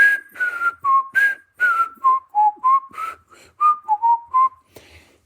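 Someone whistles a clear, bright melody at close range: the theme from The Andy Griffith Show, played as a dozen or so crisp notes in a lilting rhythm with no other sound.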